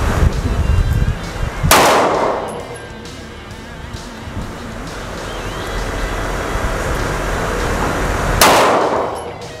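An HS Produkt SF19 3.8 polymer striker-fired pistol fires two loud, sharp single shots several seconds apart at a range, each with a short ringing decay over low background noise.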